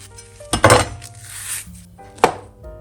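Two sharp knife taps against a cutting board while slicing a banana into rounds, close and crisp, with a short pause between them and quiet kitchen clatter around.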